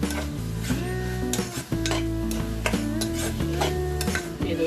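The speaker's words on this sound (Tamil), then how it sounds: "தக்காளி நல்லா வதங்கி ஆயில் வர வரைக்கும் வதங்கணும்" Tomatoes sauté in oil for pav bhaji, a quiet steady sizzle broken by spatula scrapes and stirs against the pan.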